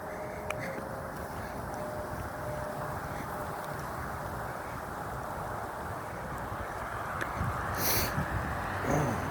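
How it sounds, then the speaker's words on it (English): Cold wind blows across an outdoor park during a walk, a steady, fairly faint rushing buffet on the microphone that rises a little near the end. "It is cold today, especially with that wind blowing."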